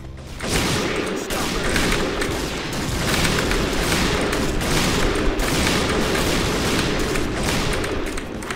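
Rapid, continuous gunfire rattles through a zombie mode match of the shooter game Point Blank, with loud overlapping shots and booms throughout.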